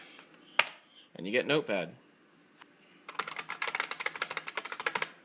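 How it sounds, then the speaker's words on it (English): Rapid, even typing on a computer keyboard with Windows 7, a run of close crisp keystrokes following a brief stretch of speech. "So you type Notepad in there"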